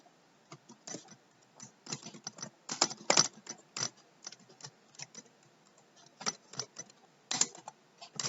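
Clicky computer keyboard typing during SAP FICO data entry: irregular, close keystrokes in short clusters with pauses between them, no voice.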